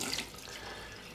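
Tap water runs for shaving-soap prep at a sink, a soft, steady hiss of flowing water with a slight splash at the start, close and alone.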